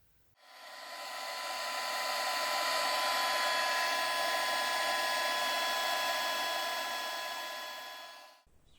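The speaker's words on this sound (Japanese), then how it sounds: "なので強力なマークソフターとドライヤー熱で無理やり曲げていきます。" A hair dryer switches on, blows with a steady loud whirring hiss for several seconds while warming decals on a Tamiya 1/20 Tyrrell Honda 020 F1 model, then cuts off abruptly.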